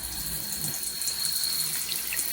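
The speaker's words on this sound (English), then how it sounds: "if I was to turn the water on" Water from a bathroom tap pours into a small sink, a steady, close splashing rush that runs unbroken throughout with no voices.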